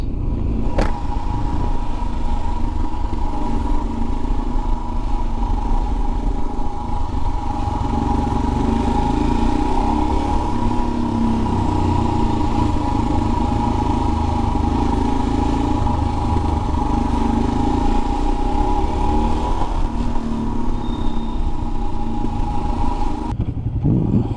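A 2021 Royal Enfield Himalayan BS4 motorcycle cruising on Birmingham roads, its engine a steady, loud, unbroken drone with a constant hum and some light rattle. Nobody speaks.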